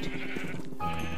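Sheep bleating in the video game Minecraft, a single short bleat lasting about a second, close and clear, with no talk.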